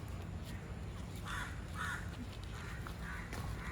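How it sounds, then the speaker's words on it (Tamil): Crows caw repeatedly outdoors near a home at night, a series of four or five harsh calls at moderate distance over steady broadband background noise, with no talk. "இங்கே எனக்கு பிடிக்காத விஷயம் வந்து காக்கா கத்திக்கிட்டே இருக்குது"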